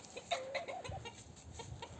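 In a coop a rooster scuffles with a sultan chicken, with a burst of agitated clucks and squawks over faint rustling, fairly quiet and continuous for a couple of seconds.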